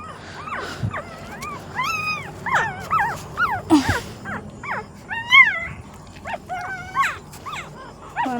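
Puppies whimpering and yipping during feeding, a near, continuous string of high, rising and falling cries and squeals with short pauses between them.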